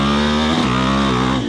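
A KTM 500 motorcycle fitted with a Rocket slip-on exhaust revs loud and close, a deep harmonic engine drone that dips briefly and then holds steady.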